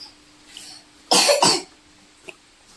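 A sick child coughing indoors, two sharp close coughs in quick succession, with a small throat sound and a faint tick before and after in an otherwise quiet room.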